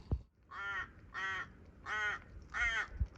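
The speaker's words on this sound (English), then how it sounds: "Wow, the crows here are so annoying. What a terrible noise." Crows cawing in Coober Pedy, Australia: four loud, harsh, drawn-out caws in a steady rhythm, close by, with faint background noise and no talk.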